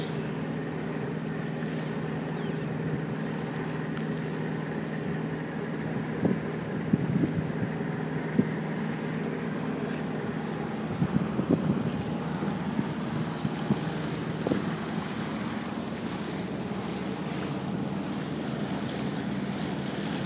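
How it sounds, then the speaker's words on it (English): A 1993 Mason 44 sailboat under way on Chesapeake Bay water between Annapolis and Rock Hall, Maryland, on a calm sunny day, giving a steady wash of water and hull noise with a low engine hum and a few faint knocks. "Mason 44 delivery, Don Barry buyer, going up to Rock Hall from"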